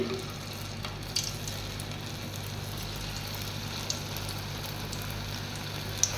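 Meal maker pakodas frying in hot oil, a steady close sizzle and crackle throughout with a few small pops.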